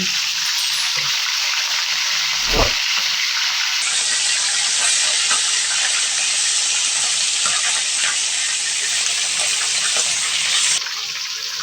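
Chicken pieces for a roast sizzle and hiss steadily in hot oil after being turned over in the pan, a loud, continuous frying spatter with no talk.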